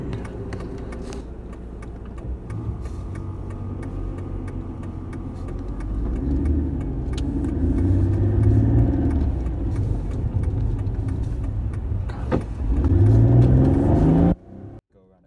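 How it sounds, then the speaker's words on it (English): 2005 Mercedes-Benz E320 drives along as its engine climbs through acceleration, a steady close engine drone rising in pitch with a short gear-change dip, then cutting off abruptly at the end. "driving the Mercedes-Benz E320"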